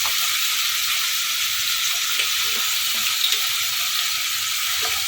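Chilli paneer with tomato sauce sizzles loudly in a pan, a dense continuous hiss broken by a few soft stirring knocks, near and steady with no talking.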